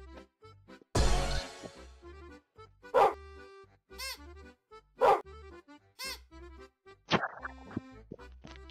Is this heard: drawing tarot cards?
no